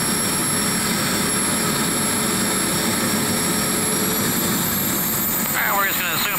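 Jet aircraft engine roaring at a 1980 airshow in Punta Gorda, Florida, with the Coors Light Silver Bullet jet, a loud steady broadband roar throughout, rising in pitch near the end.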